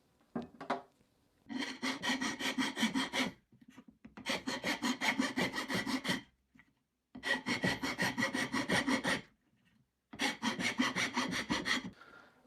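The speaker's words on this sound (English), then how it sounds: "So the next step is to file it down, get it round, and then we can test it in the mortise." A file rasps a wooden chair tenon round in four long bursts of rapid, even back-and-forth strokes separated by short pauses, close and loud with no talking.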